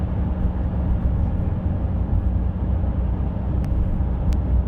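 Steady low rumble of a 2025 pickup truck, either a Ram 1500 RHO or a Ford F-150 Raptor, cruising at 70 mph up a slight highway grade in 8th gear around 1,800 rpm, a continuous loud engine and road drone heard from inside the cab.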